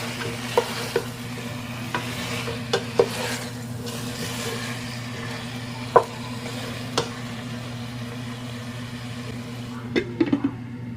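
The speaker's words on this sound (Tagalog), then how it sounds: "Haluin natin ito." Chicken feet frying in a pan are stirred over a steady low sizzle, with sharp utensil scrapes and clicks coming at irregular intervals.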